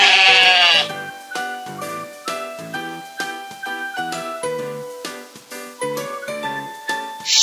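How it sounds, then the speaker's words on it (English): Sheep bleating in a children's animal puzzle game, a short series of harmonic bleats over a bright musical backing, loud and close, with no talking. "Sheep."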